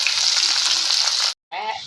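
Onion and chilies hitting hot oil give a loud, bright sizzle that cuts out abruptly for a moment, then resumes slightly quieter.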